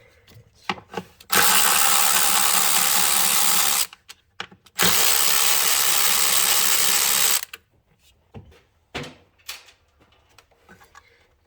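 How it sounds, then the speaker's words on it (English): Bolts come off a Ford canister purge valve with two long, loud bursts of a power ratchet or impact tool, separated by a short pause, surrounded by quieter clicks and knocks of the tool and parts; no talking. "we just got these 2 bolts to undo now that we've already got the electrical connector and the vapor connector undone"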